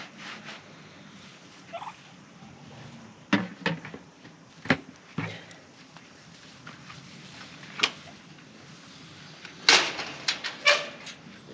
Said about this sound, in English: You guys can hear the pigs. They're going nuts